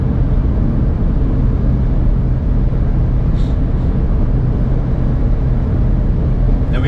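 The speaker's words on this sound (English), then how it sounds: "Now we are getting a bit of wind noise today." Steady broadband wind noise roars around a Smart car cruising at speed on the road, a constant rushing hiss and low rumble filling the whole stretch without pause, with no talking over it.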